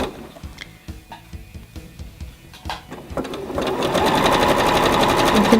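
A sewing machine stitches fold over elastic, starting with a few slow separate ticks, then running into a fast steady mechanical chatter that grows louder near the end, close by with no talking.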